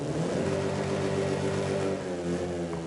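A car engine revs steadily in Forza Horizon 5, a loud, continuous buzzing drone with strong harmonic tones that holds for about three seconds without a break and with no voices over it.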